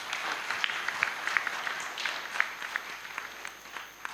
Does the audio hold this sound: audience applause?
yes